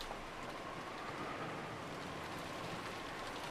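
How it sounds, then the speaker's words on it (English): Soft, steady rain ambience in the visual novel game Umineko When They Cry, a faint even hiss with no distinct drops or voices. "Listen to this beautiful rain backdrop"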